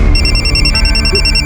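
Telephone ringing in a steady, pulsing electronic trill, loud and close over a dense musical background throughout the short moment.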